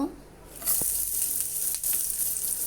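Green chili, garlic and onion hit hot oil, bursting into a loud, hissing sizzle after a brief quiet start, with a few light stirring clicks.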